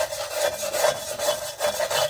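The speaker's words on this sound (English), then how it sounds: "And just a wire brush here. Clean up some of this as much as I can." A wire brush scrubs Ford F150 parking brake parts in quick, close, rhythmic back-and-forth rasping strokes, about five passes, loud and with no talking.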